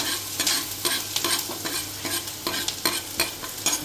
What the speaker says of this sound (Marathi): तेल तापल्यानंतर यामध्ये मी लसूण टाकला, अद्रक, लसूण आणि बारीक चिरलेली हिरवी मिरची आपली.